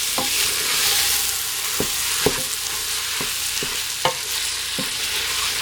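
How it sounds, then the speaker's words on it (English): Meat being stirred in a hot pan over medium heat, a steady frying sizzle broken by irregular sharp knocks and scrapes of a utensil against the pan, close and alone without talk. "So now we're just going to stir that around."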